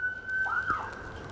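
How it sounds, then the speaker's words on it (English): A short police siren sound effect: a steady wailing tone that rises into a quick warble and then fades, heard alone with no talk. "The sirens come and get you."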